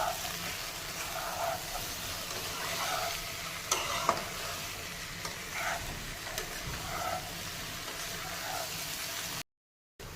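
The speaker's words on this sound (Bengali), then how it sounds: "এবারে আমি এর মধ্যে দিয়ে দিলাম গরম মশলা। গরম মশলাটা দিয়ে ভালোভাবে কষিয়ে নেব।" Egg and soyabean curry with garam masala being stir-fried in a pan: a steady, close sizzle with a few sharp scraping clicks from stirring, and no voices.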